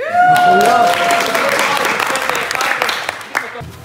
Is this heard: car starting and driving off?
no